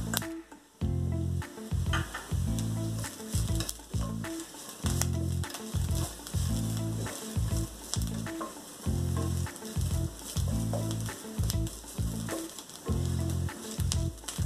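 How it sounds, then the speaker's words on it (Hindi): Spices and green coriander roast in a pan for Kolhapuri baingan masala, a continuous sizzle sitting under prominent rhythmic background music, with no voices. "इसको भी हम अच्छे से 2-3 मिनट तक के लिए भून लेंगे।"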